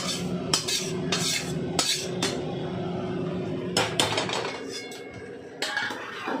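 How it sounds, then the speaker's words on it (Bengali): Spices being stirred into rice and water in a cooking pot, with a steady scraping and clinking of a utensil against the pot and a few sharper knocks, close and continuous with no talking. "এবার আমি মশলাটা এখানেই মেশাবো।"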